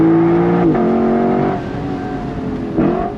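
A Lexus LC500 V8 (2024 Bespoke Edition) accelerates hard on throttle, its engine note rising steadily with two gear shifts, loud and close throughout with no talk.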